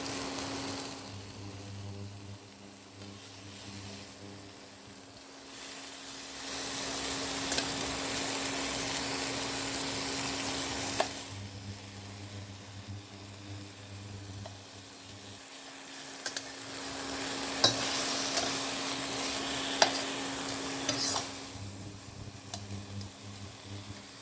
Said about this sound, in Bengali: দশ মিনিট পর পাতাগুলো আমি একবার উল্টে দিচ্ছি